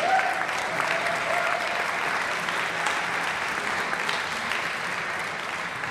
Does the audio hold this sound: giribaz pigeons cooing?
no